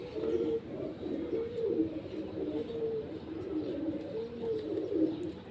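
A partly paralysed pigeon coos close by in a repeated soft, throaty pattern, rising and falling in regular phrases over a quiet background.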